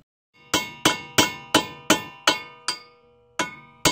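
Eight sharp metallic hammer strikes on Mazda Miata wheel studs in a steady rhythm, close and loud, each ringing briefly before the next blow.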